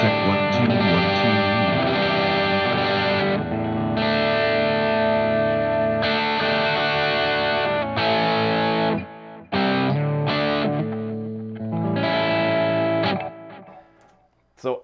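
Electric guitar played through a Positive Grid amp-modeling unit with distortion and chorus effects, sustained chords and notes ringing loud and close, with pauses and a final abrupt stop near the end.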